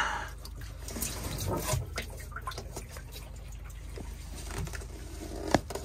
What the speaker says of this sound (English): And just drain that seawater down into the bilge.